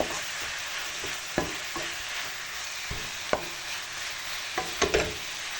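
Shredded cabbage sizzles steadily in a hot pan, with occasional sharp clicks and scrapes of a utensil stirring, close up and without talk.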